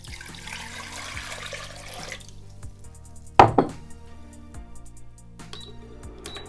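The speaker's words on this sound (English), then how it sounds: "we'll begin by putting 4 cups of water into this Dutch oven" Four cups of water pour and splash into a Dutch oven for a few seconds, followed by faint drips and a brief louder splash, quiet and close.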